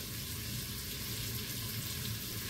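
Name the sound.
vegetables sauteing in a pan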